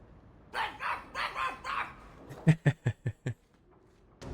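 A dog in Dragon Age II lets out a few low, muffled yowling barks, then a quick run of five or six sharp, loud barks close by, ending in quiet.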